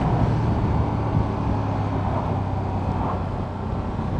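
A Ducati Streetfighter V2 twin-cylinder motorcycle engine drones steadily during a ride, a loud continuous low rumble mixed with road and wind noise and no clear revving.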